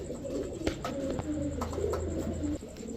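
Pigeons at a bird sale, including Pakistani teddy, racer and high-flyer giribaz breeds, give soft, fairly quiet cooing calls close by over a low background murmur.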